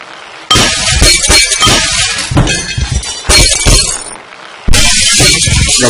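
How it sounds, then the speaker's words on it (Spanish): Repeated glass shattering and clinking from the Happy Wheels video game comes in several loud bursts with short gaps between them, heard close and clear. "Romper cristales."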